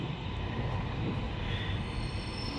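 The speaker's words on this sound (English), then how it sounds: "here's the train coming in from" A train running from Glasgow to the airport pulls into an Edinburgh station, a steady, close rumble of wheels and rails with a faint high squeal, no talking.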